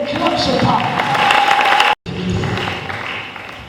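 A church congregation in Gabon gives a loud acclamation with applause and crowd voices, a dense roar of clapping and shouts that breaks off briefly and then resumes.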